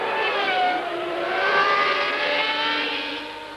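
Formula One Ferrari race car storming out of the pit lane at the 1995 Australian Grand Prix, a loud, sustained high-pitched engine wail that rises and holds close by before easing slightly at the end.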